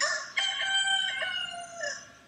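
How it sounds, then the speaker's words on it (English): A rooster crows once, a loud, close, drawn-out cock-a-doodle-doo that rises, holds and trails off over about two seconds, with no other sound. "A rooster crowed."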